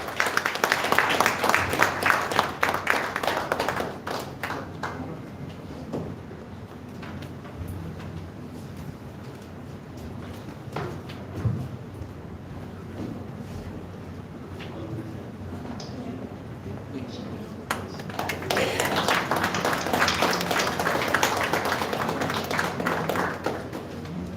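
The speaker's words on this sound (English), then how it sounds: "Ladies and gentlemen, give him a big round of applause." Audience applause for a memento presentation at a college event, loud clapping at the start that fades into a murmuring hall, then swells again toward the end.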